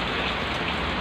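Heavy typhoon rain pours in a dense, steady roar that drums loudly on nearby surfaces without any pause.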